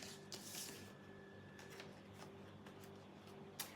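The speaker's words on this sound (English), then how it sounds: "After shuffling, the Justice card was still at the bottom of the deck." A deck of tarot cards is shuffled quietly close by, with soft riffling and scattered light card flicks over a low steady hum, ending in a sharper snap; nobody speaks.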